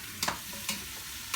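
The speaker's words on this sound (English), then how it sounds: "Nice little sear. A little more olive oil." Pork loin sears in olive oil, a faint steady sizzle broken by three short scraping stirs in the pan.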